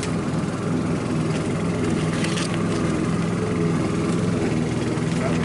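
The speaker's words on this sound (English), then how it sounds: "Nothing like the sound of a lawnmower when you're filming" A lawnmower runs nearby in a backyard, a steady droning engine hum with a constant low tone that carries on unchanged throughout, moderately loud and continuous.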